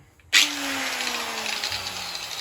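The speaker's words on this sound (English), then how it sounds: "So I'm just gonna grind that little rod." An angle grinder spins up and cuts through a small metal rod being shaped into a metal flower, starting abruptly with a harsh burst and settling into a steady, loud, close whine with a slowly dropping motor tone.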